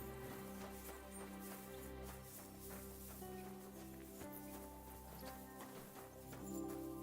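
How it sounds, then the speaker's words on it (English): Horse hooves clip-clop steadily in the Kingdom Come Deliverance 2 video game, a walking rhythm set against continuous music and ambient game sound. "Oh, look a horsey."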